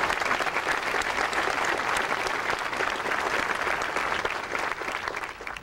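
Applause from the crowd at the 1990 Americans with Disabilities Act signing ceremony, loud and continuous, tapering slightly near the end with no voices over it.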